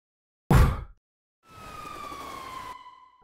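In GTA 5 roleplay, a short loud burst of noise gives way to an ambulance siren arriving, a clear wailing tone sliding slowly downward for over a second before cutting off.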